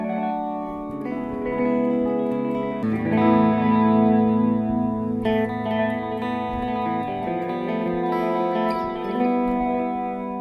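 Over about ten seconds, a Line 6 POD Go adds modulated delay and chorus to a lightly distorted electric guitar, its chords and single notes swirling and echoing in a continuous, close, fairly loud passage, with no one talking.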